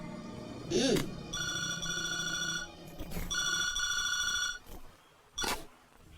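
An old-style telephone bell rings in repeated bursts, loud and close, with short gaps between rings and brief noises in between.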